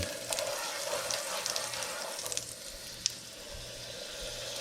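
Butter sizzles and melts in a hot pan before eggs go in for fried rice, a steady close frying hiss with faint crackles and one small clink, no talking over it.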